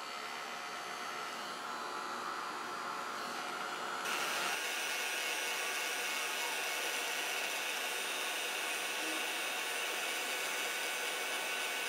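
Heat embossing tool blowing steadily and loudly while melting white embossing powder on a card sentiment, a continuous hot-air whoosh that brightens and grows a little louder partway through.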